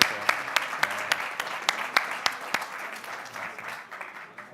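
A conference audience applauds with sharp individual claps standing out, the clapping steady at first and gradually thinning and fading toward the end.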